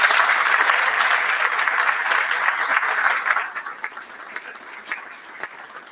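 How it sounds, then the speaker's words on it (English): Audience applause for council members at a ribbon-cutting dedication, full and steady for about three seconds, then thinning into scattered claps with a few cheers. "Please, let's give them a round of applause."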